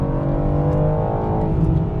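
A 2025 BMW M4 Competition coupe's engine revs hard under acceleration in sport mode, a loud, steady, close-up drone of engine and exhaust that holds for the whole stretch without speech.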